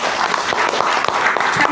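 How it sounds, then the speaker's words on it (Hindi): An audience at a wellness business meeting applauds loudly, a brief burst of dense, close clapping from a crowd. "एक बार आप सारे समझदार लोगों के लिए जोरदार तालियां मिल सकती।"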